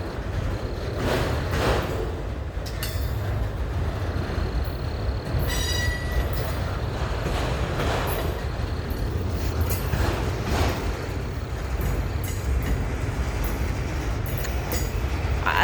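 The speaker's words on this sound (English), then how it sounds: "I think there's a second train coming." A very long freight train rolls past on railroad tracks at Wartrace, Tennessee, a loud, continuous rumble with metallic wheel squeals and clatter throughout.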